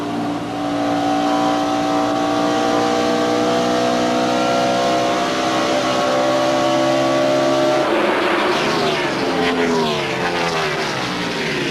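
NASCAR stock cars race at the 1997 UAW-GM Quality 500, a loud, sustained engine drone holding steady for several seconds before a car roars past close by and the pitch shifts and falls away.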